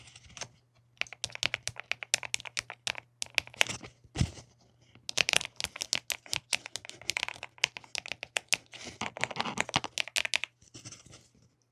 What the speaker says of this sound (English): I also hooked up my new keyboard.